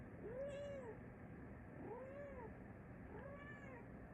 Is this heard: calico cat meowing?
yes